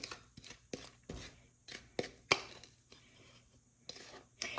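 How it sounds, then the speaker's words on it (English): Thick brownie batter scooped into a sprayed 9x13 pan, heard as a series of scattered scraping and tapping clatters from a utensil against bowl and pan, close and fairly quiet, with no talking. "Now we can scoop it into the pan"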